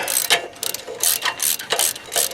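A ratchet clicks in bursts as a regular spark plug socket loosens the spark plug on a Generac generator, the close pawl clicking repeating in quick strokes with short pauses between.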